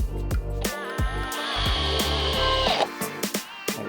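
Power drill turned down to low speed, driving screws into deck baluster brackets: a steady whirring run with short stop-start bursts before and after, close and loud.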